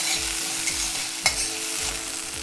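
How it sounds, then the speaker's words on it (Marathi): Okra stir-fried in a pan with spice paste, turmeric, asafoetida and crackled mustard seeds, giving a steady close sizzle with periodic scraping strokes of a spoon stirring, and no voices. "एक चमचा वाटण त्याला परतायचं आहे परतलं की घालायची हळद आणि आता भेंडीसोबत मिक्स करू"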